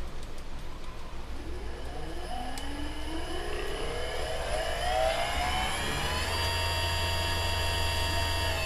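An e-rickshaw (Toto) electric motor on a repair bench, its controller's power section just fixed, whines up in rising tones as the accelerator is applied, then settles into a steady hum, loud and close with no talk.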